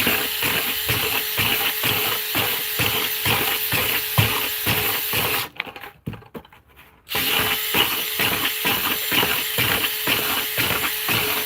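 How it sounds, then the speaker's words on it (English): A power drill bores holes through the side of a wooden worm bin, giving a steady, loud, rhythmic grinding with regular pulses that stops briefly midway and then resumes at the same pace. "Alright, drill some holes on this side."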